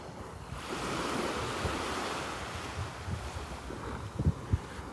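Ocean waves wash onto Vanderbilt Beach with a broad, steady roar of surf, mixed with wind buffeting the microphone and a couple of low thumps near the end.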